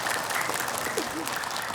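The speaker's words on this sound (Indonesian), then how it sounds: "Tepuk tangan lagi deh." An audience of women at a religious talk show applauds steadily in sustained clapping from start to finish, with a voice speaking faintly underneath.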